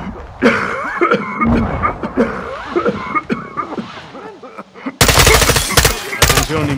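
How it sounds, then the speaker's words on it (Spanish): Rapid bursts of gunfire crackle from Call of Duty: Modern Warfare II (2022), interspersed with shouted Spanish voices, then a loud sustained volley of shots near the end. "Tiros en la azotea, cúbreme."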